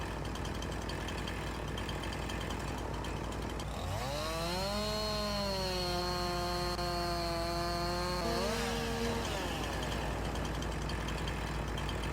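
A chainsaw in Farming Simulator 19 revs up and cuts into a big tree, a loud steady whine with rising and falling pitch over a constant low engine rumble, easing off near the end.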